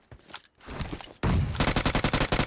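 PUBG Mobile gunfire: a short burst of shots, then after a brief pause a loud, rapid automatic volley of about a dozen evenly spaced close reports, with no talking.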